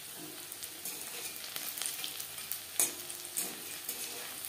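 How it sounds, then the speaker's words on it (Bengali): Cauliflower pakoras crackle and sizzle in hot oil, a soft continuous fry with a few sharper pops and utensil taps, close but fairly quiet, with no voices. "পাকোড়া বেশ ক্রিস্পি করে ভাজা হয়ে গেছে।"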